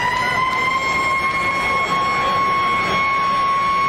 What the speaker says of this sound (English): As the siren goes in the background.